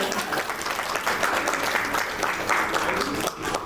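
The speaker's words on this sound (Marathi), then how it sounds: "एकदा परिवारासाठी जोरदार टाळ्या वाजवायच्या" Audience applause at a family birthday celebration, a steady wash of many hands clapping at a moderate distance, sustained throughout with a brief dip near the end.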